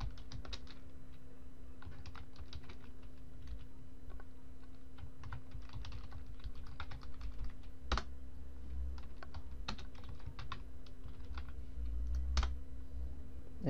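Fingers type commands into a terminal on a computer keyboard to deploy a Meteor app to an Ubuntu server, giving a steady patter of close, light key clicks over a low hum, with a few sharper keystrokes.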